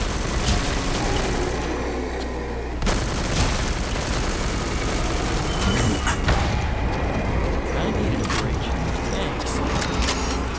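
Hip-fired weapon in Call of Duty Zombies on a rainy map, loud bursts of gunfire among dense, noisy game sound with sharp cracks and a heavy low rumble throughout.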